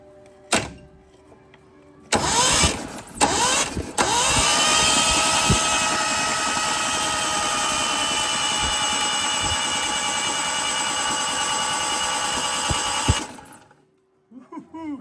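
A car engine being started after a clean-out: a few short cranking bursts, then it catches and runs with a steady, fairly loud whirring drone for about ten seconds before cutting off.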